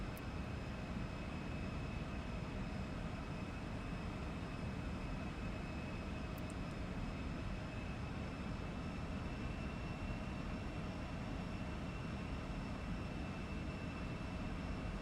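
Embraer E175 jet engines in the X-Plane 12 flight simulator, a steady continuous roar and high whine holding level throughout with no voices over it.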